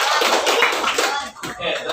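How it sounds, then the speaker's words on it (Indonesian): A classroom of students claps for a student group in a short, fairly dense burst that drops away briefly and then picks up again. "tepuk tangan untuk kelompok 5"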